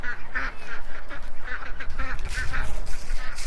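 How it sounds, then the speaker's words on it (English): Ducks quack in short, repeated nasal bursts near a chicken coop outdoors, several calls overlapping in an irregular rhythm, close and moderately loud. "you can see these beautiful ducks"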